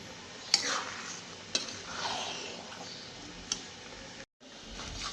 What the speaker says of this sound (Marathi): आता सुंठ आणि बडीशेप भाजून घेतली